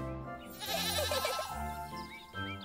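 A goat from the video game Little Goody Two Shoes bleats in a wavering, nasal cry, set over soft tonal game music with no one speaking.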